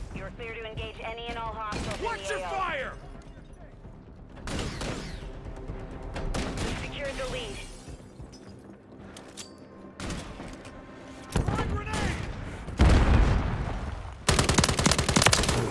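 Rapid gunfire bursts from Modern Warfare 3 multiplayer, loud and close, with several separate volleys and single shots spread through the clip, over game effects and someone talking.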